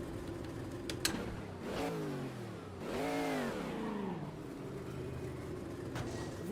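Modified Jetta LMP3 race car in Automobilista 2, its engine revving up and down in rising and falling sweeps, loud and close with a steady mid-pitched drone throughout.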